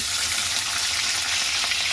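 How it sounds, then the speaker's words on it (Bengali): Potato pieces frying in hot oil in a kadai, a dense, steady hiss and crackle filling the whole moment without pause, close and loud, with no voices. "এখন আমরা আলুটা তেলের মধ্যে ভেজে নিব"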